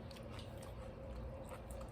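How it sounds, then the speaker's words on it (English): Dried shiitake mushroom snack is crunched and chewed close to the mic, a quick series of faint crisp bites over a short stretch. "They're crunchy, so they give you that kind of, satisfaction like crunching a potato chip"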